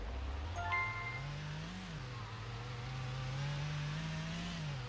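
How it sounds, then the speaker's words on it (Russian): A bus engine in the Roblox Blackridge RP game revs up and accelerates steadily, its droning pitch rising and wavering continuously at a constant loud level with no one talking. "И газуем."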